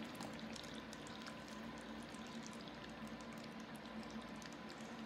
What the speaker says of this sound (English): now we're gonna pour it in the middle of a parchment paper lined cookie sheet